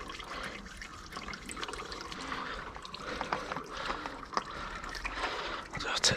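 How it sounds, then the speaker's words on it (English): Oil draining from the unscrewed oil filter of an Iseki TLE3400 compact tractor, a steady close trickle and splash running under a person's speech. "Unscrew the oil filter. It's going to drain everywhere,"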